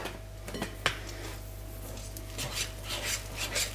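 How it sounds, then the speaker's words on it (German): Omelette mixture of egg with onion, parsley and cheese stirred in a bowl, giving soft scraping and rubbing with a few light clicks of utensil against the bowl, fairly close, over a steady low hum. "So, weiter umrühren."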